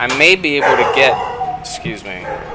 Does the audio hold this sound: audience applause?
no